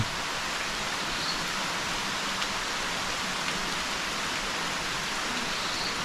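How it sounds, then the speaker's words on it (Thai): Steady rain pours outside the entrance of a limestone cave shrine above a pond in Khammouane, Laos, a dense, even hiss that holds unbroken throughout with no voices. "ตอนนี้ก็ฝนกำลังตกไปปลอยนะครับ"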